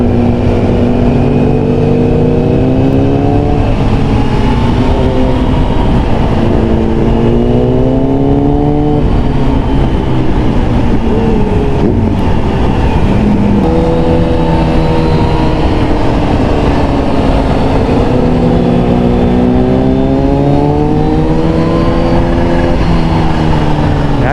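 A Kawasaki ZX-10R motorcycle engine revs loudly and powerfully, its pitch sweeping up and down through sharp throttle blips, sustained and close throughout.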